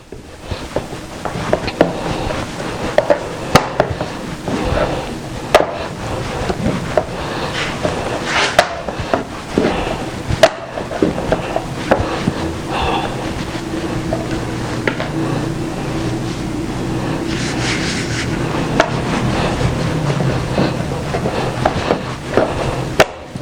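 A wooden rolling pin rolls flour-dusted dough flat for Nigerian fish rolls, giving steady close scraping and knocking thuds, with sharper bumps and clatter scattered over a continuous low rumble.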